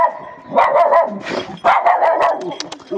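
A puppy at a house in a remote Nepali village barks and yips repeatedly in short, close, loud bursts with brief whimpers between them, with no talking.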